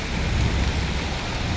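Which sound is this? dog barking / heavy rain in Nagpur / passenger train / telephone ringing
heavy rain in Nagpur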